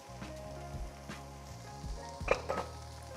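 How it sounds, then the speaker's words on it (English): Garlic sizzles softly in tomato paste inside a Dutch oven for beef stew, a quiet steady frying hiss broken by a few light clinks and scrapes of stirring. "go ahead and add your garlic."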